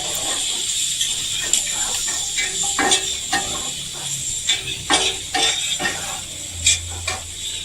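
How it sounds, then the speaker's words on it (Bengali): Chilli, turmeric and cumin powder stirred in a hot pan for an aloo bhindi chorchori, a steady sizzle under repeated scraping strokes of a spatula, close and fairly loud. "ভালো করে নেড়ে নিলাম"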